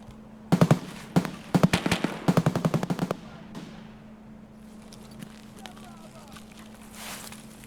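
Rapid bursts of automatic gunfire in the Escape From Tarkov video game crack out in quick clusters for about three seconds, loud and close, then give way to a quieter ambient stretch with a faint distant shot.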